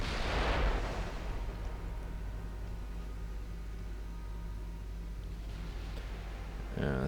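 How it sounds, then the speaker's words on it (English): A flash fire explosion erupts on a battleship in Ultimate Admiral Dreadnoughts, a loud booming blast that trails into a long low rumble, with another burst at the very end. "Flash fire on the big battleship."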